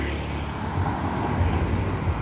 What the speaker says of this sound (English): That's why I see a lot of traffic.